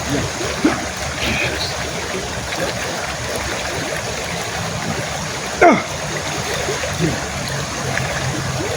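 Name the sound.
river stream water flowing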